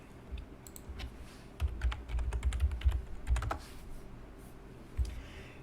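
Quick bursts of typing on a computer keyboard, close and fairly quiet, crisp key clicks in an irregular rhythm with short pauses.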